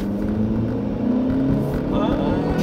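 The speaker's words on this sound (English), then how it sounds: "And let's see if I like the fact that it accelerates." A 2016 Chevrolet Malibu with a 1.5-liter engine and six-speed automatic accelerating, a steady droning engine hum that rises slightly in pitch, heard from inside the cabin at moderate loudness without speech.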